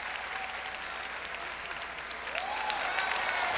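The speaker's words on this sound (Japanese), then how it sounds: "どうぞ両選手に盛大な拍手を送ってください。" Arena audience applause after a ten-minute exhibition grappling match in a Japanese RINGS event, a broad wash of clapping heard from a distance that swells slightly toward the end, with faint crowd voices mixed in.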